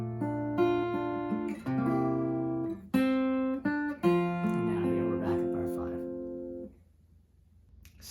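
Fingerstyle guitar plays bars 19-20 of a song, sustained plucked chords and melody notes ringing clearly and close for several seconds before fading out.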